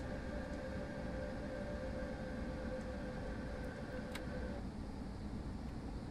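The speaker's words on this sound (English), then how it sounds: "It's a hive of activity to watch trains." A train in Train Sim World 4 rumbles steadily past a junction on the East Coastway, a continuous low drone with a faint tonal whine and occasional clicks, heard alone at a distance.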